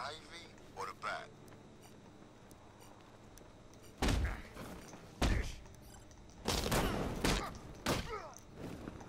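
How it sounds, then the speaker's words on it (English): In the video game Batman: Arkham Knight, enemies fire shotguns in four or five heavy, booming blasts a second or so apart, loud and close, with a voice talking between them. "Guys with these shotguns, it's a little much."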